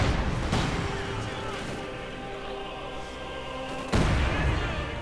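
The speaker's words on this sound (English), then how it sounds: "There we go, heavy mortar firing away." A heavy mortar fires in a World War II real-time strategy game, with booming blasts at the start and near the end over a steady bed of battle noise and speech.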